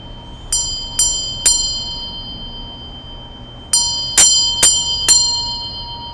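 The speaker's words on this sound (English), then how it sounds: "have the sacred bell today. We'll get a couple of rings to invoke." A sacred bell rings in two groups, three bright metallic strikes followed after a pause by four more, each tone clear and close and fading with a shimmering ring.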